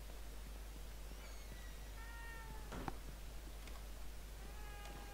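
A cat meows in the horror video game The Evil Within 2, giving several soft, rising-and-falling mews spread across a constant low hiss and hum, with one brief clattering knock partway through.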